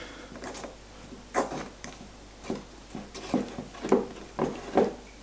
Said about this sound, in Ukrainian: Так, розмішуємо.